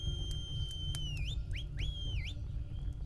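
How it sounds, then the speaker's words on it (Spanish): A high, thin whistle holds a steady tone, then swoops down and up in several quick bends over a low rumbling background. "Un silbido agudo, lejano, demasiado lejano."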